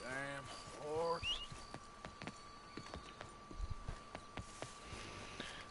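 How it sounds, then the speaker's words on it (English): Horse hooves clip-clop at a walking pace in the Red Dead Redemption 2 video game, a steady series of moderate, fairly close knocks, with someone talking over the start. "Damn horse."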